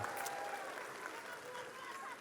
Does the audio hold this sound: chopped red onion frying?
no